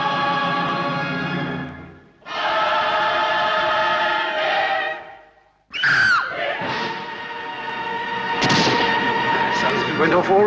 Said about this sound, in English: when the cymbals crash, that's the time for the shot to go off